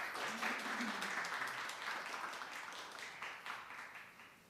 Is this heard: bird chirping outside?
no